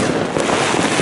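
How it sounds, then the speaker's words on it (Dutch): Dense, continuous crackling and booming of New Year's fireworks exploding close by, loud and steady throughout with no pauses. "We zijn weer lekker bezig, lekker knallen."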